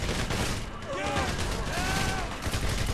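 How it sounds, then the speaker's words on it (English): Heavy gunfire in GTA V Online during a four-player survival match on Del Perro Pier: a dense, steady barrage of shots with faint voices partly underneath. "So many bullets."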